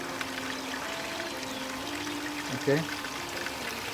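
Water flows steadily through an air scouring water filter during its rinsing cycle, a constant pouring rush with a brief clunk near the end, while a person speaks over it.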